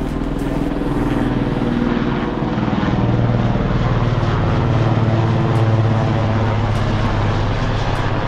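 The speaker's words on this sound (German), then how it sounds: "een helikopter." A helicopter drones loudly and continuously overhead in the mountains at Fronalpstock, Switzerland, a steady throbbing engine and rotor hum with no break.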